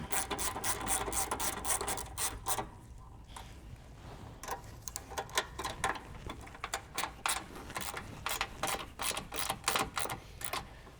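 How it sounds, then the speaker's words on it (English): Ratchet wrench snugging the nuts on a car battery hold-down over a plastic battery case, heard as rapid clicking bursts in quick repeated strokes with short pauses between, close and fairly loud, no talking. "You can snug these up and don't over tighten them."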